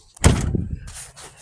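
A pickup truck door slams shut up close with a single heavy thud, followed by a short rattle and a faint scraping after.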